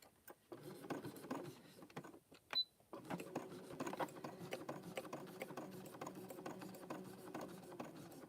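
A sewing machine stitching a fabric-wrapped rope bowl, its needle running in steady rapid bursts that pause briefly around the third second and then hum on continuously, faint and close, with no talking.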